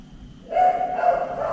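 Dogs bark outside an abandoned, dark house, a sustained muffled barking and whining from some distance, rising suddenly and continuing steadily.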